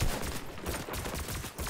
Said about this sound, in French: Il lui a mis 7 balles dans le crâne